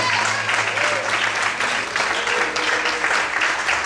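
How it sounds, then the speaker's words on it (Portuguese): A church congregation applauds during a sermon, a dense burst of clapping lasting the full few seconds, fairly close and even, with murmured voices beneath. "Aplaude o Senhor"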